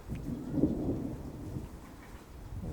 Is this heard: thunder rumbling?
yes